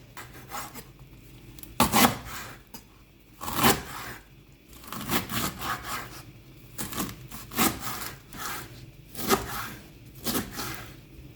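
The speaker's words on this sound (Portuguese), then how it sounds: "E aí, pra cortar, eu vou enrolar e vou cortando em fatias finas." A knife slicing a rolled-up ingredient into thin slices on a cutting board during meal-prep cooking: repeated close, rasping cuts in an uneven rhythm, with louder strokes every couple of seconds and no talking.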